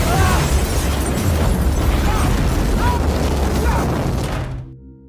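A huge, loud explosion roars in a disaster film, a sustained booming rumble with crackling debris that holds for several seconds before cutting off abruptly, with no one speaking.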